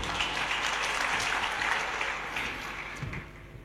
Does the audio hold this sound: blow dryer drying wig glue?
no